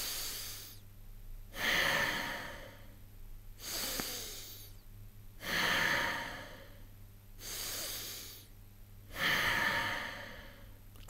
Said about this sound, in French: Vous allez inspirer par le nez et expirer par le nez.